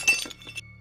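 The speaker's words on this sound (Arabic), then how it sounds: "سمعت صوت قزاز انكسر، وهذا صوت الكسر كان جاي من الصالة" Glass shatters in a nearby living room of a house: a sharp crash with bright clinking fragments over under a second, tapering into a faint low hum.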